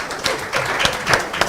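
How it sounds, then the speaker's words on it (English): Audience at a national consultative forum on post-election accountability applauding Dr. Charity Binka, a brief round of clapping with a few sharper claps standing out. "Give her a warm round of applause"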